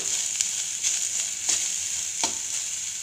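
Thinly cut ridge gourd peel cooks in a pan for a chutney, giving a steady close sizzle broken by a few sharp stirring scrapes, with no talking.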